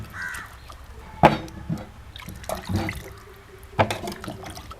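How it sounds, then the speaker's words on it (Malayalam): Raw tapioca is washed in water by hand in a home kitchen, with a few sharp splashes and sloshing bursts spaced out among quieter rinsing. "നമുക്ക് നല്ല പോലെ കഴുകി എടുക്കാം."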